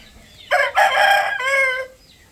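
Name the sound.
roosters fighting and crowing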